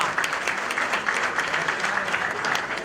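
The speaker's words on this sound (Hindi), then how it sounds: "आपको बहुत-बहुत तालियां" A crowd at a Yoga Day event at a Mumbai school applauds the performers with steady, dense clapping that stays loud and close for the whole stretch.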